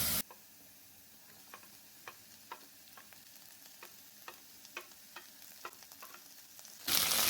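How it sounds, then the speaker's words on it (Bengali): Potatoes fry gently with onion, dried shrimp and green chilli, a faint low sizzle broken by light regular ticks of stirring, quiet and close throughout with no talk. "হালকা ফ্রাই করে নিচ্ছি"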